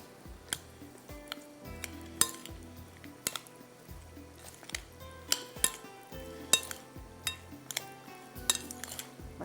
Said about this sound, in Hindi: बस अच्छी तरह से इसको आपने मिक्स कर लेना है।